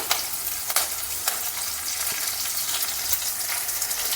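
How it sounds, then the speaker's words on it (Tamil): Crushed garlic and curry leaves sautéing in a pan for a South Indian greens dish, a busy sizzle broken by sharp scraping clicks as a utensil stirs, close and fairly loud, with no speech. "கருவேப்பிலையும் சேர்த்து கொஞ்சம் வதங்கிறது தெரியறது இல்லையா உங்களுக்கு?"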